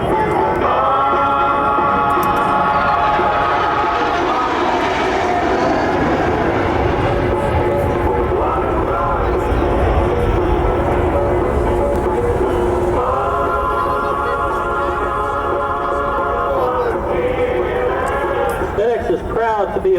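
FedEx aircraft accelerating and departing during a 1997 Rhode Island Air National Guard air show at Quonset, a loud sustained jet roar filling the whole stretch while a commentator talks over it on a public address.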